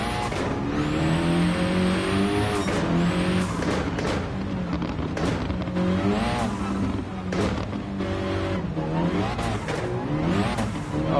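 Race car engine with a high-RPM turbo in a dirt track sim racing game, revving hard and continuously near and loud, its pitch climbing and dropping through gear changes, with faint tire noise underneath.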